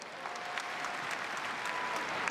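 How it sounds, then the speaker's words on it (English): An arena audience at the ANZ netball championship final applauding, a continuous roar of many hands clapping from a distance, even and sustained with a faint tone running beneath. "Can you give them a massive round of applause?"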